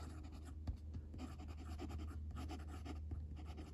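Fountain pen with a fine steel Schmidt nib scratching across paper, a faint continuous scratchy stroke sound with small rhythmic pen movements, close and quiet.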